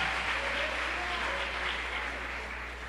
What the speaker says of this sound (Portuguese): Pode aplaudir de novo.